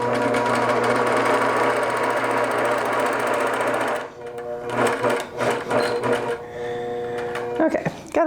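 A long arm quilting machine sews through a small quilt section, a loud steady mechanical whir that stops abruptly partway, then restarts in short uneven bursts and clunks.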